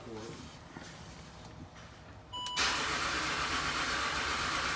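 Range Rover Sport HSE TDV6 diesel engine cranking and catching after a cab refit, a loud steady broadband roar suddenly starting about halfway through and continuing at full level, following quieter workshop noise and a brief beep.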